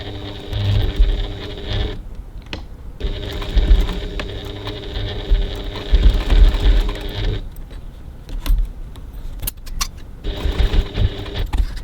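A sewing machine stitches a slider in place on a handbag in bursts of steady mechanical whirring, pausing briefly twice between runs, close and clear with no talking.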